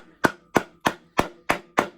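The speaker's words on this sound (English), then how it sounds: "I like to grab just like a little 2x4, set that over the top, grab my hammer" A hammer strikes a 2x4 wooden block six times at an even, quick rhythm, driving in a tapered steering bearing on a vintage motorcycle, each blow sharp and close with a short woody ring.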